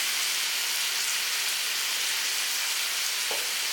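Pieces of citron sautéing with rock salt in a pan for pickle make a loud, dense, continuous sizzle, close and unbroken, with one faint knock near the end and no voices.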